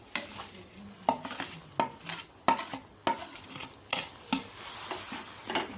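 Semai vermicelli being stirred into boiling milk in a pot: a spoon scrapes in an even, repeating rhythm of roughly one stroke per second, close up over a soft bubbling background.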